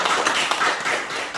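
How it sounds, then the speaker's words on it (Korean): A church congregation claps together in encouragement, a dense, steady patter of many hands lasting the whole moment without pause. "힘내시라고 더 큰 격려의 박수로 기도의 박수."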